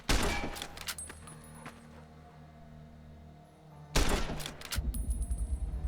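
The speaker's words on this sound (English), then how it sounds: "I'm shooting." Gunfire in a modded game of Fallout New Vegas, two loud shot bursts a few seconds apart over a low droning background, with rattling echoes trailing after each.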